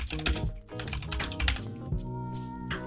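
Fast bursts of clicky keystrokes on a computer keyboard, close and fairly quiet, with short pauses between runs of typing.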